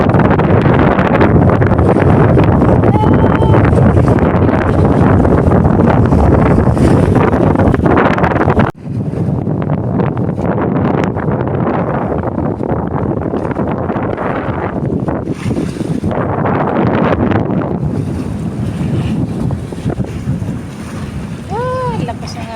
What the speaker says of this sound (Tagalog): Ang lakas ng hangin, oh.